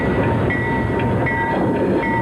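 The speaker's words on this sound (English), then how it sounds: "George's house is a bit noisy with the trains running right nearby" A train rumbles past right beside a house, a loud, continuous roar of rail cars with a steady tonal whine riding over the clatter.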